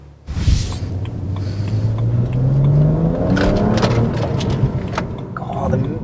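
A BMW 335i with the N54 engine pulling on the road, its rising engine drone and whir building smoothly under steady cabin rumble, close and fairly loud.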